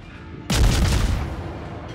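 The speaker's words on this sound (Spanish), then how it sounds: "Yo también tengo cañón." A single loud ship's cannon blast from the Shimakaze destroyer in World of Warships booms suddenly, followed by a rumbling, fading reverberation.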